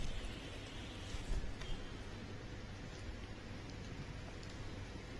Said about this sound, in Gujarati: નવસારીના આ દ્રશ્યો છે કે જ્યાં ગ્રામ્ય અને શહેરી વિસ્તારમાં વરસાદ પડ્યો હતો